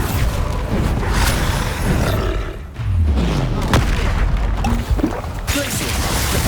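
Bombarda blasting spell in the video game Hogwarts Legacy, a series of loud, close booming explosions with deep low rumble and a falling whoosh, amid continuous game combat noise.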